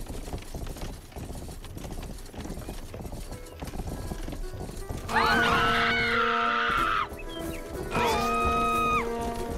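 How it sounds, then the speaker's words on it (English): Video game horse with rhythmic clip-clopping hooves, followed by two loud, close neighs or whinnies in quick succession. "Kill the horse."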